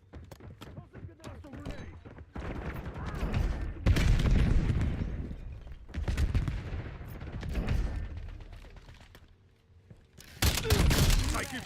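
Video game gunfire crackles in repeated bursts and volleys, loud and close, with heavy booming stretches, brief lulls and a final intense burst.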